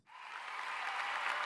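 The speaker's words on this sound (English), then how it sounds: "The applause works." An applause sound effect played during a live stream test, fading in quickly and then holding as an even, dense crowd clapping at moderate loudness with no voices.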